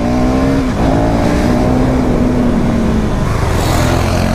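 A motorcycle accelerates hard to overtake on a road at night, its engine note rising and holding steady up close, then easing off as another vehicle hums nearby.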